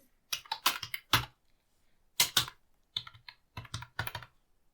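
Fingers type on a computer keyboard while entering details during Gmail account setup, producing bursts of rapid close key clicks separated by short pauses. The keys sound crisp and loud, with no talking.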